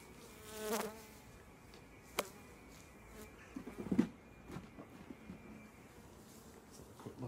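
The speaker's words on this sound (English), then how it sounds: "I'm going to shake all of these bees into the top of that hive" Honeybees buzzing faintly around an open hive during a colony inspection, a soft continuous hum with a couple of louder passes as individual bees fly close, plus occasional handling knocks.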